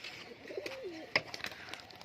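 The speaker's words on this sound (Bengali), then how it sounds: "তো পায়রা আমি উড়িয়ে দেখিয়ে দিচ্ছি।" Domestic pigeons coo close by in a soft, rolling call. A sharp click and a few light taps follow.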